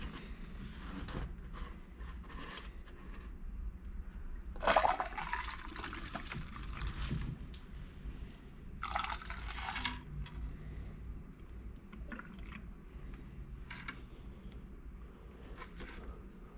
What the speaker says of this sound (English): let's go ahead and find something to put this old fuel in, then we can dump it in the recycling container